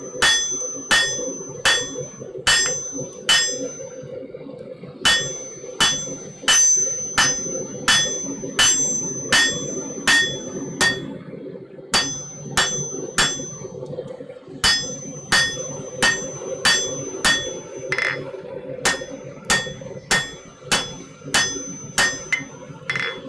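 Hammer blows on hot steel being drawn into a taper at an anvil in a smithy, a ringing, evenly paced run of metallic strikes with short gaps between bursts, close and clear without speech.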